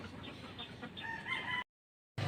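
A rooster crows loudly and nearby, its call stretching over a second before cutting to silence, then resuming briefly.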